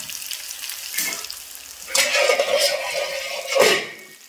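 Ridge gourd pieces frying in oil, a crackling sizzle that swells and fades in bursts as the pan is stirred, close and fairly loud, with no talking.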